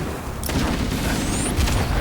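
Gunfire and blasts from a Halo firefight fill the scene, with dense, loud crackling shots and a heavy boom midway, followed by a sharp whizzing streak near the end.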